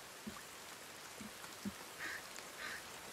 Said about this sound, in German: es regnet jetzt